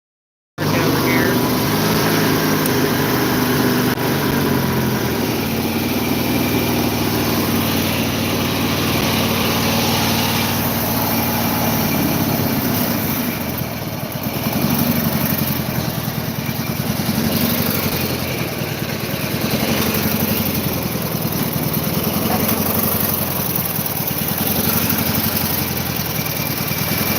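A tractor engine runs steadily throughout, loud and close, with a sustained mechanical drone that surges slightly at moments as it revs, heard during ongoing repair work.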